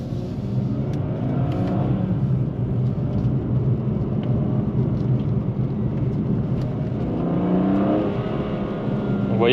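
A 410-horsepower BMW M2 Competition with its particulate filter still fitted, engine and exhaust giving a steady, muffled rumble with a couple of louder revving swells, and faint talk at the start and near the end.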